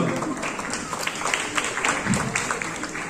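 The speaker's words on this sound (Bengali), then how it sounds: "একটা জোরে হাততালি ঝুলন্দির জন্য" A film-promotion audience claps steadily and densely for a Bengali actress, the crowd's applause close and continuous with no pauses throughout.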